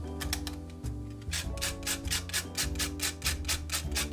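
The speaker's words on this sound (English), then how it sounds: "What you want to start with first is grind your spices." Whole spices (cinnamon, nutmeg, cloves and pepper) are ground by hand, making a close, rhythmic grinding and rubbing sound in quick repeated strokes, alone and fairly quiet.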